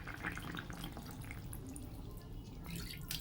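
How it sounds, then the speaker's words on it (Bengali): Water being poured into a pot of boiled potatoes to bring it back to a boil, a soft splashing and trickling with some dripping, fairly close, with a brief louder splash near the end and no talk. "জলটা দিয়ে একটু ফুটিয়ে নেব।"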